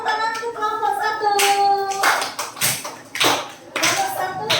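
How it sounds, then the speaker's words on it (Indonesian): A classroom of fifth-grade children claps for a group of classmates in an Islamic religious education lesson, with bursts of clapping mixed with young voices chattering over it. "beri tepuk tangan untuk kelompok 1"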